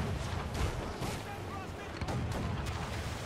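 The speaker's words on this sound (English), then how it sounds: "Enemy's firing!" Enemy ship cannons firing in the video game Assassin's Creed IV, heavy rumbling booms over a dense roar of sea and battle noise, with voices in the mix.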